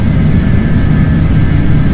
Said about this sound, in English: Let the airplane accelerate, and we're going to climb straight out.